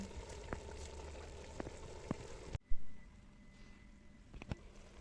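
Water and rice in a kazan for plov come to a boil, giving a low, quiet hiss with a few sharp pops and bubbles near the pot, interrupted by a brief gap.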